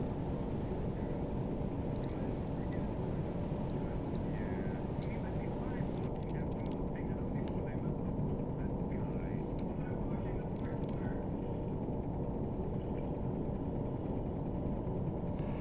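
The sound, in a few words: aircraft approaching in Silent Hunter video game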